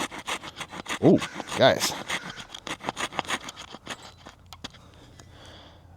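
A small Roxon Spark multitool saw blade cuts a notch in a hardened wood dowel about an inch thick, making rapid rasping back-and-forth strokes close by that gradually thin out. Someone speaks briefly over the sawing.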